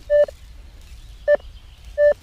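Three short, clear electronic beeps from a metal detector ring out at even spacing over a quiet outdoor background, each tone sharp and steady.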